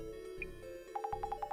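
A phone call rings out in the video game Urban Myth Dissolution Center, a quick series of about seven short, evenly spaced electronic chirps over a steady ambient music bed, clear and close with no talking.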